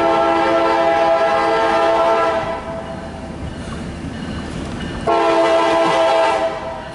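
CSX locomotives running light power westbound, no cars attached, passing loud and close with a long sustained horn blast, a pause, then another horn sounding over the rumble.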